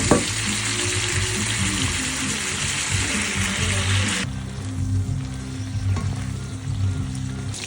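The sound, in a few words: prawns frying in a pan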